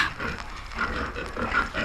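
Pigs at a farm grunt and oink in a steady, overlapping stream, fairly close and moderately loud throughout, with no talking over them.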